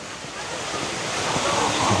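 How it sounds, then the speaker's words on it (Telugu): A water fountain on a hillside street in Paris splashes continuously, a steady, close hiss of falling water that swells slightly toward the end. "ఇక్కడ ఒక వాటర్ ఫౌంటైన్ ఉంది,"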